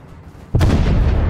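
A tank cannon fires in Fortnite, a single heavy boom that bursts in at half a second and rolls on in a loud, rumbling tail, following a quieter stretch of game ambience.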